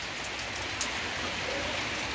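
Heavy rain pours steadily in Joaquim Gomes, Alagoas, a dense, even hiss of drops on surfaces close by, continuous and unbroken, with no voices.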